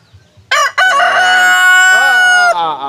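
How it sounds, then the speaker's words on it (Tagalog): A rooster crows loudly and close by, a long harmonic cock-a-doodle-doo call held for about two seconds, with faint sounds before it. "Pinakausap yung manok."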